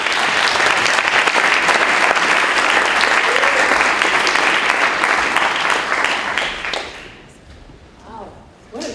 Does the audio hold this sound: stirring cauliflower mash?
no